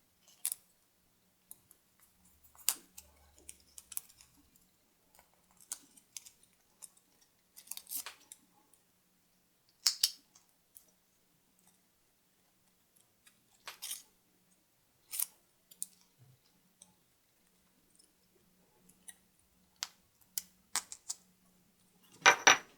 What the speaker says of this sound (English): Use the scissors to widen the opening a little so air passes through better.